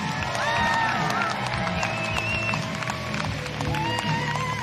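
A crowd at a STIHL Timbersports North American Women's Cup competition cheers and claps loudly and continuously, with whistles and shouts rising above the dense, steady applause.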